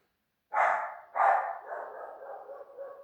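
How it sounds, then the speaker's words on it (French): A dog barks close by, two sharp barks followed by drawn-out grumbling and whimpering calls indoors, with no talking. "C'est mon chien qui aboie."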